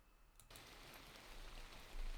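A Scratch rain sound effect: steady rainfall hisses throughout, a soft continuous patter with a few brief crackles near the start.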